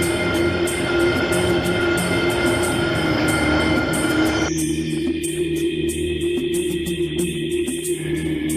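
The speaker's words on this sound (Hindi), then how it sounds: "अरे वो आवाज तो हमारी चक्की की आवाज थी।" A chakki, a grain grinding mill, runs with a steady mechanical roar and rapid rhythmic clatter. Partway through, the sound shifts and thins but keeps going. No one speaks.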